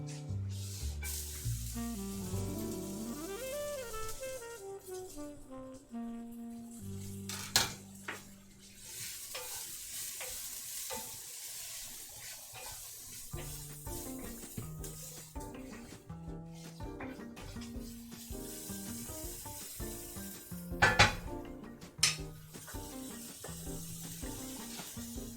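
Shallots sautéing in a pan, a steady soft sizzle with stirring and scraping running throughout, music playing alongside and a few louder clatters near the end.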